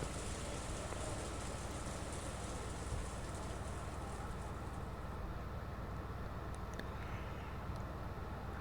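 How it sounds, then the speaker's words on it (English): Steady rain with wind from the visual novel game Umineko, a continuous even wash of falling water filling a quiet room, with no voices. "the sound of the wind and the rain began to fill the room bit by bit"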